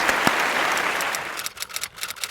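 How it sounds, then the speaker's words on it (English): Applause sound effect played on cue for a reading-month announcement, a short burst of dense clapping that thins into a few scattered claps before stopping. "Cue the applause."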